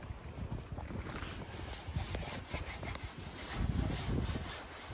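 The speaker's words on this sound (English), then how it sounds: "And Badger has just started sanding the bench." Steady, rough rubbing and scraping of sandpaper worked back and forth over a wooden bench, continuous and fairly quiet with uneven strokes.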